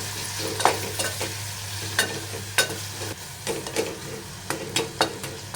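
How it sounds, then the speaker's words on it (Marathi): Spice mixture of red chilli powder, salt, coriander powder and sugar sautéing in oil for dal khichdi, with a steady sizzle under repeated sharp scraping strokes of a spoon, close and moderately loud, no talking. "मीठ, धनेपूड, साखर आणि छान सगळे मिश्रण हे आपण परतून घेऊया चांगलं."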